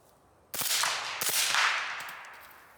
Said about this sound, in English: I'm gonna finish the rest of the mag out and a little burst with Super Sig